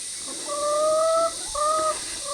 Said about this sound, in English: this is a silver Sussex laying an egg